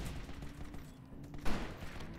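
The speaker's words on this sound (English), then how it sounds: "I shot him! I shot that guy too!" Gunfire in a free-to-play shooter video game, a dense run of rapid shots under a steady background, with one sharper, louder burst about two-thirds of the way in.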